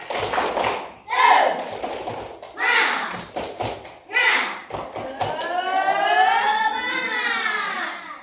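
Children in a classroom doing a rhythmic spirit clap, with sharp patterned claps mixed with chanting and shouting young voices, ending in a long rising cheer.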